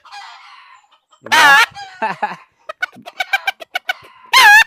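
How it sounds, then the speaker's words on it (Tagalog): Chickens cluck in a series of short, sharp calls in response to a traditional leaf horn, with two loud squawks standing out and a brief spoken word among them. "Nagre-react na yung mga manok dito."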